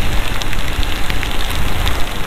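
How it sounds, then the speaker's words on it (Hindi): Heavy rain pours steadily in Sunder Nagar in the Himalayas, a dense, loud, unbroken hiss with scattered drop impacts throughout and no voices. "तो अच्छी खासी तेज़ बारिश हो रही"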